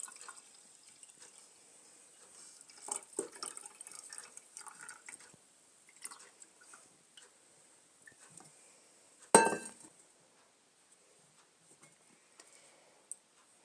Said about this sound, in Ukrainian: Ми його ставимо на банку, у яку хочемо залити молоко. І заливаємо.